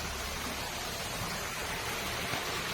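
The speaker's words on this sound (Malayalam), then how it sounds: "പാറക്കെട്ടിൽ നിന്ന് മുകളിൽ നിന്ന് വരുന്ന വെള്ളച്ചാട്ടം" Water pours down from the rocks at a waterfall on the hills of Panchalimedu, making a steady, even rushing hiss with no pauses and no voices.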